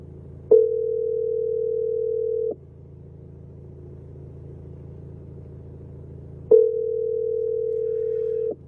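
A telephone call rings out while the caller waits for an answer: two steady, long tone bursts about four seconds apart, each lasting about two seconds, over a low constant rumble, with no talking.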